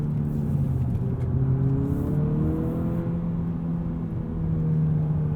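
A 2020 Honda Civic Si pulling out of a corner on a winding mountain road, its engine droning steadily and climbing gently in pitch, loud and continuous from inside the cabin.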